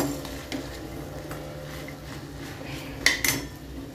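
Chickpeas being sautéed for usal, a pan scraped and stirred with a spoon in a quiet kitchen, giving a couple of sharp metallic clinks near the end over a soft steady background.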